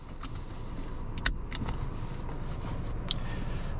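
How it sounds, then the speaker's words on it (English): Seatbelt buckling inside a 2025 Kia K4 before a test drive: a single sharp metallic click stands out over steady low cabin rumble, with a fainter click or rattle a couple of seconds later and no talk. "Let's do safety first here and buckle up."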